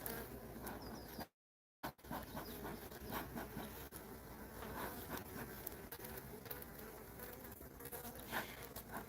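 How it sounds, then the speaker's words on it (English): Honey bees swarm around an open beehive during an inspection, a dense, constant close buzzing of many insects interrupted by one brief dropout. "There's so many bees."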